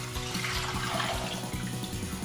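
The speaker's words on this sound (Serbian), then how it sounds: "U šerpu ćemo sipati jedan deo surutke koja nam je ostala od" Leftover whey from homemade fresh cheese pours into a cooking pot in a steady, close, continuous splashing stream with no talk over it.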